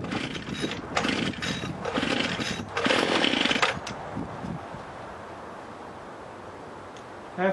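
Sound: petrol hedge clippers engine running after pull start

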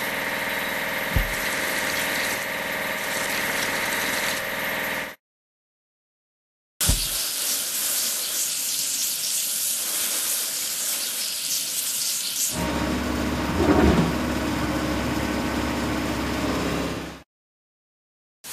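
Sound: water spraying to wash a vehicle in a video game

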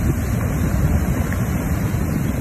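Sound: large waves at the seashore after a typhoon

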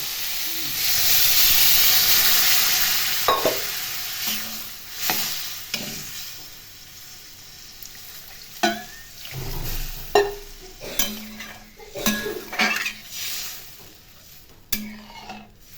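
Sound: water added to sizzling spice mixture in pan

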